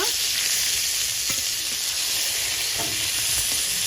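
Hilsa fish paturi wrapped in gourd leaves fries in a pan with a loud, continuous sizzle, and a few soft scrapes and knocks come as the parcels are turned over.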